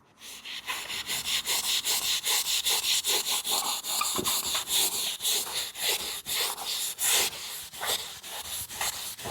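A sponge rubs back and forth over the body of a BMW X5, each stroke giving a close, rhythmic scrubbing swish, repeated quickly and evenly throughout.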